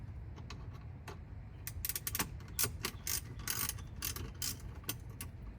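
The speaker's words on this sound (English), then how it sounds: "So I have my T20 Torx bit, and I'm going to get them out." Close clicking and ratcheting of a T20 Torx bit backing screws out counterclockwise on a Tesla Model Y rear screen, irregular clusters of sharp ticks over a low rumble, with no speech.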